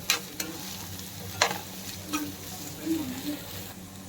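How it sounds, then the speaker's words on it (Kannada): Capsicum frying in a pan for gobi manchurian, a soft steady sizzle with a few distinct clinks and scrapes of a stirring spoon against the pan. "ಈಗ ನೆಕ್ಸ್ಟ್ ಕ್ಯಾಪ್ಸಿಕಮ್ ಹಾಕೊತಿದ್ದೀನಿ. ಅದು ಸ್ವಲ್ಪ ಫ್ರೈ ಮಾಡೋಣ. 2 ನಿಮಿಷ ಫ್ರೈ ಮಾಡ್ಕೊಂಡ್ರೆ ಸಾಕು."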